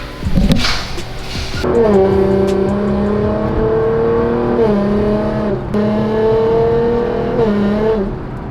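A tuned Nissan GT-R accelerates hard in second gear at half throttle, its loud engine note rising steadily with brief dips, close and sustained.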